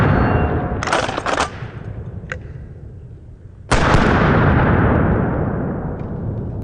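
Two loud, close blasts from a pump-action trench gun shotgun at a sporting clays range, separated by a few seconds, each with a sharp crack that fades into a long rumbling echo.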